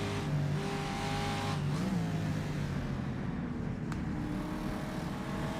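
Racing car engine from the rFactor sim at the Targa Florio '67 circuit, a loud steady high-revving drone with harmonic whine that dips and rises briefly as a gear shifts, running continuously throughout.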